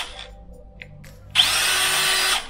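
A Hilti cordless drill driver starts up after a few faint clicks and runs at steady high speed for about a second, a loud close whine that then stops.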